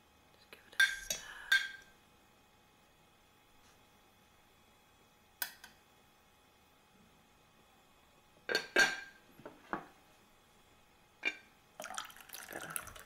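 Spoon stirring tea in a cup, a few faint clinks and chinks of metal on ceramic in small clusters separated by quiet gaps, close and delicate.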